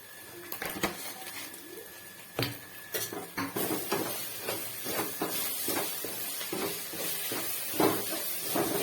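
Egg palya frying in a pan, with a faint continuous sizzle under repeated scraping and tapping of a spatula against the pan, the strokes growing busier and denser after the first few seconds.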